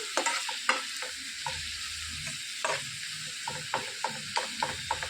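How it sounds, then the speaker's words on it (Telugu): Stuffed bitter gourd fries in a pan over low heat, giving a steady sizzle with intermittent scraping and stirring clicks, close and alone. "సిమ్లో పెట్టేసుకొని దాని దగ్గరుండి వేయించేసుకోవాలి"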